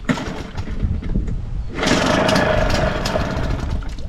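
A Hangkai outboard motor is pull-started with the choke pushed in, catches after a brief rustle and runs up into a loud, buzzing, high-pitched engine drone that holds steadily close by.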